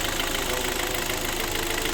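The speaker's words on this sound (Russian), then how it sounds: "Вот так он на горячую подстукивает. Проблема всем известная, это юбки поршней стучат по цилиндрам." Hot-running Hyundai ix35 engine with piston skirts knocking against the cylinders, a steady close mechanical clatter with a fast even ticking rhythm throughout, no voices.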